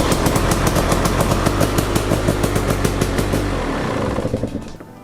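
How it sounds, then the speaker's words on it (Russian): A KTM EXC300 two-stroke enduro motorcycle with an aftermarket Chinese-made electric starter runs close by with a loud, rapid, pulsing beat, then dies away near the end. "чтобы запускать этот мотоцикл"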